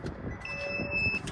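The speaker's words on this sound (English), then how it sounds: "if you start the vehicle, you'll see this alarm" A 2022 SB4 PTO bin-cleaning truck sounds a high, thin electronic alarm tone when started, a steady beep held for about a second over a low engine rumble, with no talking.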